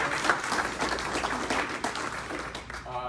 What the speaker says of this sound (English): big round of applause for the family and friends